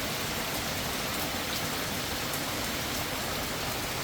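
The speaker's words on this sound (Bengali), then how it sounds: "এখন প্রচুর বৃষ্টি হইতেছে" Heavy rain pours steadily, a dense, constant hiss of drops with no pauses and no voices.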